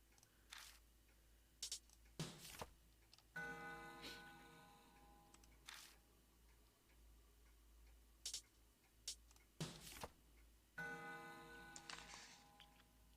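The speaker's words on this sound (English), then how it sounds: "When I spin the long hand, the clock makes a noise." In the video game Spirit Hunter NG, a clock gives quiet, irregular ticks and clicks as its long hand is spun, with faint tonal background sound and no voices.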